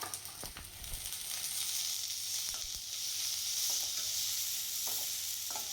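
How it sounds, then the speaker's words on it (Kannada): Onion and garlic paste fry in a pan with a steady, fairly quiet sizzle, marked by a few sharp clicks of stirring near the start. "ಆನಿಯನ್, ಇದನ್ನು ಆ್ಯಡ್ ಮಾಡಿ ಹಸಿ ಸ್ಮೆಲ್ ಹೋಗೋವರೆಗೂ ಫ್ರೈ ಮಾಡ್ಕೊಳ್ಳೋಣ"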